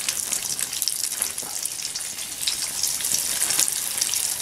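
Trout frying in lard on a Firebox stove, a steady bright sizzle with crackling pops running throughout.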